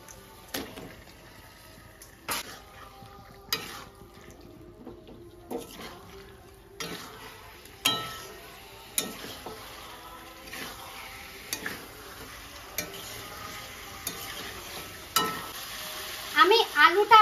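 Chicken sizzles in a pan for pulao while being stirred, soft steady frying broken by frequent sharp scrapes and clinks of the spoon against the pan, fairly close and quiet.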